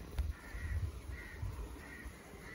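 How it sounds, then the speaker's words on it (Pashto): Crows caw in a quiet village on a cool, breezy day, with three or four separate harsh calls spaced roughly evenly over a low, steady rumble of wind. "د کارغان اوازونه دي"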